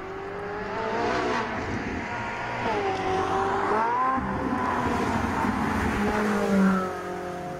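A Ferrari 458 Italia with a 4.5-litre V8 drives off, its engine revving up and down through gear changes, loud and close with rising and falling pitch.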